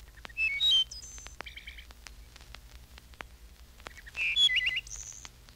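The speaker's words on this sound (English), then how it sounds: "Wood thrush." A wood thrush sings in two flute-like phrases with a quiet pause between them. The clear, ringing notes end in trills, heard alone against faint background hiss.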